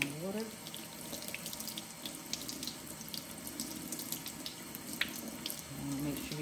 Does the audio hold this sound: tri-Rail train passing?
no